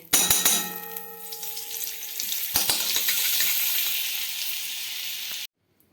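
Butter drops into hot oil in a pan for chicken soup, opening with a few metallic clinks, then a loud, sustained close-up sizzle that cuts off abruptly near the end.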